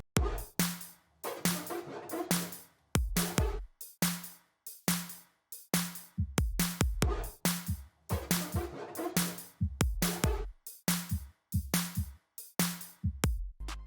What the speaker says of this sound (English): I also add in this hi-hat